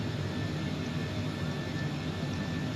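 Airbus A330-300 jet engines in a flight simulator game, a steady broadband roar with a faint high whine running underneath, constant and unvarying, without any voices.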